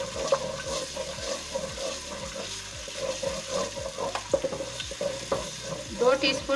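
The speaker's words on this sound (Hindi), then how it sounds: "इसको 1 मिनट तक हम भूनेंगे।" Ginger-garlic paste fries in hot oil in a karahi: a steady sizzle with scraping and stirring clatter from a spoon against the pan throughout.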